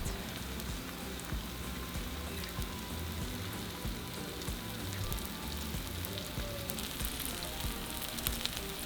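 Cheese melts on a hot griddle for birria verde quesa tacos, giving off a steady, even sizzle that hisses continuously like light rain. It runs without a break and without any voices.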